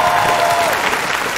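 Audience applause fills the room at a Vietnamese music competition show after a performance, loud and continuous, with a faint sustained tone running beneath the clapping early on.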